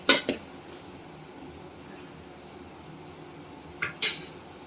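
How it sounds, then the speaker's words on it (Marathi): A metal spoon scrapes and clinks against a pot of boiling vegetable curry, two short bursts at the start and two more near the end, with quiet gaps between and no talking. "एकदा परत आपण हलवूया."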